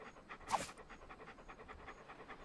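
A dog in the video game Monkey Island 2: LeChuck's Revenge pants in a quick, steady rhythm of short breaths, moderately close, with one brief louder burst early on.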